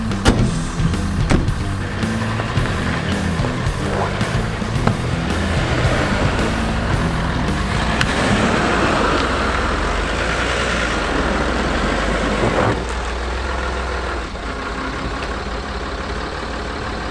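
A Citroën C6 car rumbles as it is moved, a steady low engine drone with some mechanical whirring, loud and close throughout, no voices.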